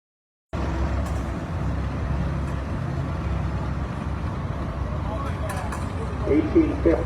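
A 1966 Oliver 1850 tractor rolls past in an antique power show parade, its engine rumbling low and steady at close range, with a busier burst toward the end.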